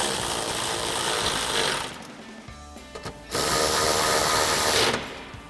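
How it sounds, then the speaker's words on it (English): A ratchet with a 10mm socket tightens the upper mounting screws of a BARDE front bumper on a 2016-2023 Toyota Tacoma, giving close, busy mechanical clicking in two bursts separated by a short pause. "Then we'll go ahead and tighten those down again with our 10mm socket on our ratchet."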